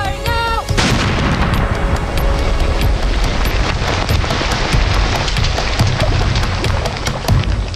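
A large explosive main charge detonates during a Royal Marines and Royal Engineers operation in Afghanistan, a sudden heavy boom followed by a long, loud roaring rumble that fills the whole stretch without pause.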